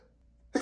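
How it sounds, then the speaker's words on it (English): A single abrupt sneeze bursts out after a short quiet breath-in during an allergy sneezing fit, close and sharp, alone with no talking. "I have to sneeze again."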